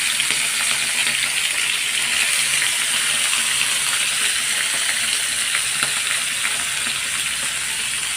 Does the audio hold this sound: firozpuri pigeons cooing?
no